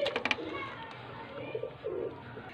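High-quality pigeons for sale in Faisalabad coo softly nearby, giving a few low, murmuring calls after some brief fluttering noises at the start.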